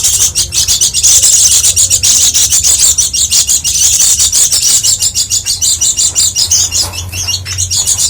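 Dense, constant chirping and tweeting from many small white-eye birds in an aviary, loud and close, with occasional wing flutters and no talking.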